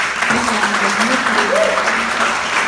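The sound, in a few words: congregation applauding first-time visitors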